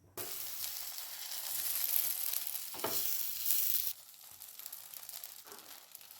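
Adai batter hisses and sizzles loudly on a hot pan, a steady broadband fry with a brief scraping stir near three seconds, then settling to a softer sizzle for the last two seconds.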